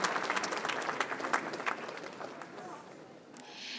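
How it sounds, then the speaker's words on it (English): A live radio event audience bursts into applause, dense clapping that runs steadily and then thins out and fades over a few seconds. "Give yourselves a round of applause."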